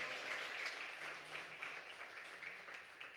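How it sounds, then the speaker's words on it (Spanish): A church congregation claps steadily as an offering of praise during a sermon, with continuous dense applause at moderate distance and no talking. "Denle una ofrenda de palmas al Rey."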